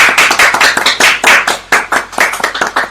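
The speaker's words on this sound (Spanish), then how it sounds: "Dale un aplauso al Señor." A church congregation claps hands together in a quick burst of close, sharp applause, with no talk over it.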